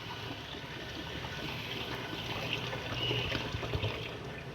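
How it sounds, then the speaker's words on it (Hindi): About three litres of water are poured into a cooking pot of fried onions, a continuous splashing, gurgling stream that stays even and fairly quiet throughout, with no talking. "अब इसके अंदर तकरीबन 3 लीटर पानी डालेंगे।"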